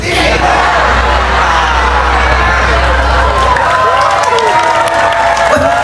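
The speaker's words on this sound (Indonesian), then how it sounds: "Tepuk tangan." A congregation at a humorous Islamic sermon breaks into loud applause with cheering, yells and laughter, lively crowd noise filling the whole stretch with voices mixed in.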